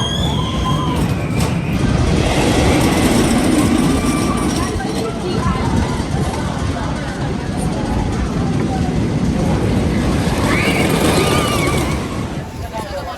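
A Wolverine Wildcat wooden roller coaster at Michigan's Adventure roars steadily along its track, a loud continuous rumble with rattling clatter and distant rider screams, fading slightly near the end.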